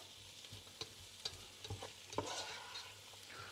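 Onions browning in a pan for chili con carne give a faint, low sizzle under several sharp scrapes and taps of a spatula stirring, with no talking.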